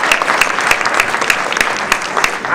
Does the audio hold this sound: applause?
yes